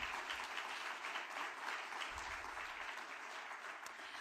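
Applause from a debate audience fills the room steadily and evenly from start to finish.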